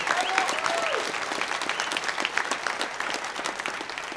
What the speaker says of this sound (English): Big round of applause, of course, for Scott and everybody for putting this on.